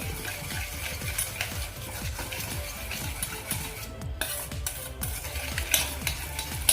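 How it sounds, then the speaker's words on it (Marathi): A spoon stirs powdered sugar into curd in a bowl for an eggless rava cake batter, making a quick run of rhythmic soft scraping and tapping strokes. Nobody speaks. "ही पिठी साखर आपण पूर्ण दह्यामध्ये मिक्स करून घेणार आहोत"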